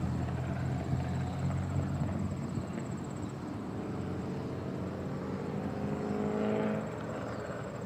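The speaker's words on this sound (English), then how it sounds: "I hear the engine sound behind me again" Traffic rumbles steadily nearby as cars and a truck pass, a low engine drone holding throughout with a rising tonal sweep near the end and no talking.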